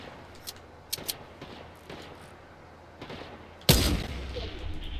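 A Barrett sniper rifle in Fortnite fires one loud, sharp, booming shot near the end, after scattered fainter pops and gunfire from other players in the distance.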